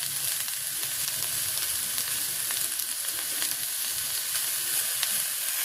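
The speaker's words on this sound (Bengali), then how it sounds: "আলু দিয়ে পেঁয়াজ কলে দিয়ে ভাজি করতেছি" Potatoes and onion sprouts fry in a pan in a village kitchen on a winter morning, giving a steady close sizzle with light crackles and occasional stirring scrapes, no voices.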